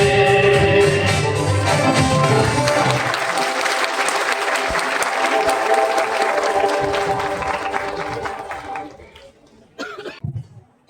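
Parents in the audience at a school cultural program applaud a first-standard performance in a long, dense round of clapping, with a cough or two. The clapping fades out near the end, leaving a few scattered claps.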